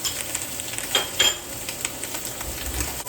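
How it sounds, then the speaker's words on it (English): Ribeye beef sears in a hot pan with fresh rosemary and garlic, a loud, continuous frying hiss and crackle, with a few brief scrapes and bursts of spatter. "So we can get a nice hard sear"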